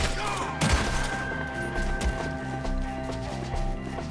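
Gunfire in the Red Dead Redemption 2 video game: a dense fusillade of repeated shots and bursts over a steady low rumble, with galloping hooves and shouted voices in the background.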